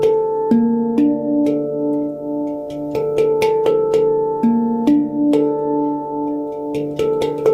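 A handpan played at a steady moderate pace, each struck note ringing out with a sustained metallic, bell-like tone that overlaps the next, fairly close and clear with no talking.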